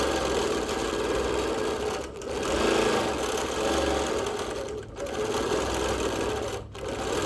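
Sewing machine stitching steadily through free-motion quilting of leaf shapes on peach and green fabric, a fast continuous whir with brief pauses near the middle and end, close and loud, no talking.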